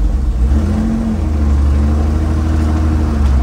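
A Porsche 3 litre RS rally car, a pure competition machine, sits idling with a deep, loud, steady engine rumble and a slight rise in pitch partway through, close and alone without talk.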